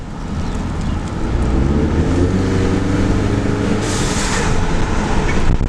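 Ford EcoBoost Mustang turbo engine under hard throttle, a loud, steady rising drone with a hissing rush building near the end, heard up close without talk.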